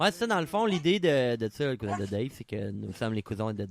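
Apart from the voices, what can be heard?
No distinct noise like a dog, phone or traffic.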